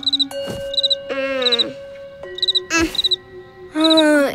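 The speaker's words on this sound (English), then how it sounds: "It's impossible to fall asleep with that cricket." A cartoon cricket chirps in repeated shrill bursts, alternating with high cartoonish vocal squeaks and whines, loud and close with no clear speech.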